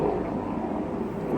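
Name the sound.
helicopter flying overhead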